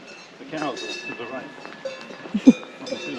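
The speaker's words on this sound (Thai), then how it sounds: "ได้ยินแต่เสียงกระดิ่งวัวนะไม่ไม่ได้เห็นตัววัวเลยอะ่ะ" Faint clanking cowbells on grazing cows sound in the distance outdoors near Caumasee lake, Switzerland, a few scattered clinks under someone talking nearby.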